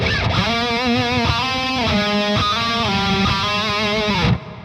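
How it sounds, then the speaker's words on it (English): An electric guitar played through a Quad Cortex amp modeler with shimmer reverb rings out in sustained, distorted chords, with bright shimmering overtones stacked above. The chords change several times before cutting off abruptly. "I like the shimmer reverb myself"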